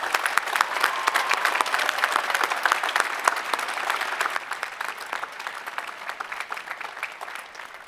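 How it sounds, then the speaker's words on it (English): Graduation ceremony crowd applauding at an outdoor university commencement, sharp individual claps forming a steady roar that gradually thins and softens toward the end. "Please join me in applauding these people."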